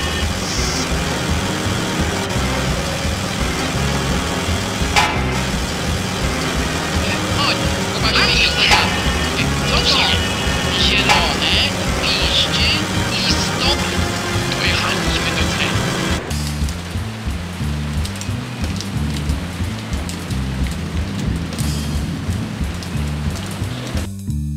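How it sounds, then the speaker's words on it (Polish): Rain pours steadily on a wet highway as a scooter engine drones along in the Reksio video game, forming a dense, continuous wash of sound that thins abruptly partway through. "Bohaterowie wdrapali się ponownie na skuter i ruszyli mokrą autostradą. Mokrą, bowiem deszcz padał i padał."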